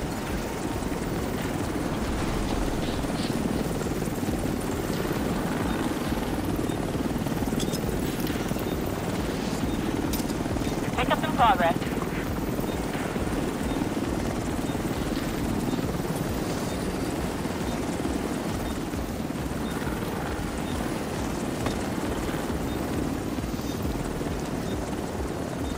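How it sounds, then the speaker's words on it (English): Helicopter arriving at a night extraction zone in The Division 2, a steady loud rotor and engine rumble that continues unbroken throughout. "Helo arrived."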